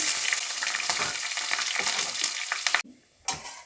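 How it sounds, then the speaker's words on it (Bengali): Onion with black cumin, cardamom, cinnamon and bay leaf frying in oil as the base for an egg curry, a loud close crackling sizzle that stops briefly, then resumes. "ডিমের মশলা ফোড়নে কালো জিরা এলাচি দারচিনি তেজপাতা একটা পেঁয়াজ দিয়ে দিচ্ছি"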